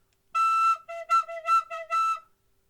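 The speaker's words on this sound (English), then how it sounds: "You've got 2 different pressure levels that you can use to get different notes out of the whistle." Tin whistle played with harder breath, giving a run of six bright, clear notes in quick succession, each short and separated by brief gaps, close and fairly loud with no talking.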